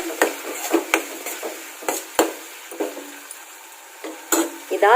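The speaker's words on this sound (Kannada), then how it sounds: "ಚೆನ್ನಾಗಿ ಒಂದ್ಸಲ ಮಿಕ್ಸ್ ಮಾಡ್ಕೊಂಬಿಡೋಣ" Chili powder and salt are stirred into sambar masala in a pan, with a spoon scraping and tapping against the metal in irregular strokes over a faint, low sizzle.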